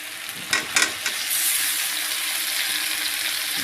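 Potatoes drop with a few soft thuds into a frying pan of spicy masala, then a loud, steady sizzle and crackle of hot oil takes over and holds close up.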